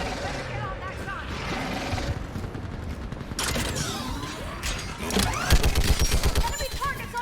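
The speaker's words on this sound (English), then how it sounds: "Get on that gun up there and do some damage!" A mounted gun in Mass Effect Legendary Edition opens up in a loud, dense burst of gunfire, heaviest toward the end, over a clanking battle din with voices shouting throughout.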